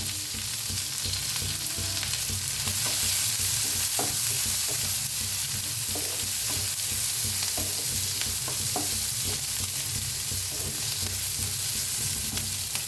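Onion frying with asafoetida in a pan sizzles loud and close for the whole stretch, a dense continuous crackling hiss with occasional spoon stirs and scrapes, no voices.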